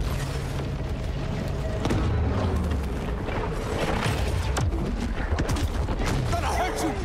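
Torpedo explosions in the shark video game Maneater during a battle with a PT boat: continuous heavy rumbling booms and muffled blasts over churning water, loud and dense throughout.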